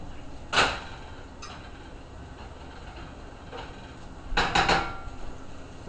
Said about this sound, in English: put it back on the stove and scrape up the brownings and cook it down